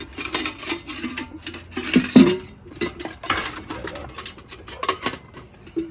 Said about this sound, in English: this is the lid for it and for the actual zebra pot, which is this one here.